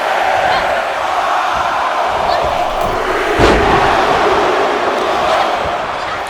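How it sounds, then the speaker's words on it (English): An arena crowd in the WWE 2K24 wrestling video game roars steadily, a dense sustained chant filling the space, with one dull thump midway. "The crowd is counting it down."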